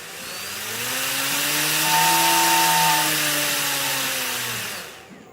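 Small RC electric motor spinning a propeller up and back down with the throttle, a buzzing whine that rises in pitch and loudness, holds, then falls away.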